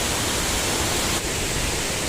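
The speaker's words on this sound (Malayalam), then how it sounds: "ചെറിയൊരു വെള്ളച്ചാട്ടം പോലെ ഇങ്ങനെ ചാടി വരുന്നുണ്ട്." Water of the Lakkam waterfall near Munnar tumbles down in a steady, dense rushing hiss, loud and continuous with no voices over it.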